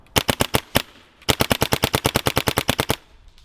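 Rapid bursts of gunfire shot through a chronograph, a short string of about six sharp cracks, a brief pause, then a longer run of around twenty fast, evenly spaced shots, loud and close.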